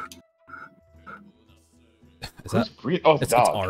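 A dog barks a few sharp times close by, breaking in over people talking.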